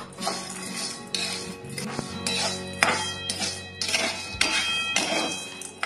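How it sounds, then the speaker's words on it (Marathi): Peanuts stirred through hot salt in a pan over low gas, with a continuous close gritty rattle and scraping, punctuated by occasional sharper clinks of the utensil against the pan, with no voices. "कमी गॅसवर आता आपण असे हलवून भाजून घेऊ छान।"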